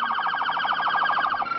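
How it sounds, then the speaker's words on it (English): A police siren wails loudly and steadily in a fast warbling pattern, close by and alone with no talk, near the state fairground neighborhoods of West Allis. "Police sirens sounded."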